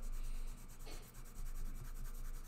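A pencil rubs across paper while shading a cast shadow under a drawn sphere, a soft continuous scratchy stroking with slight rhythmic swells, close and alone.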